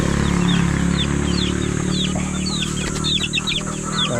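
Chicks on a backyard farm peep and cluck repeatedly, close by, while being fed chick booster feed, over a steady low background hum.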